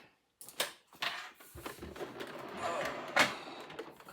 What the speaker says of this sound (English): Now I'm going to put a stitch down the side